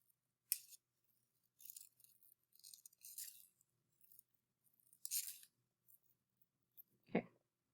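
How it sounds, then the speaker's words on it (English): Scissors snipping out a paper cone, a series of short, close, crisp cuts in irregular bursts against near silence, ending with a duller handling sound. "So I'm going to cut this one out."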